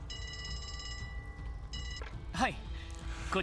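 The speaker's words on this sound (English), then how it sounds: "The phone is ringing." An old-style telephone bell rings in the video game Trails to Azure, two rapid trilling bursts separated by a pause, fairly quiet under game music, with brief voice-like chirps from characters afterwards.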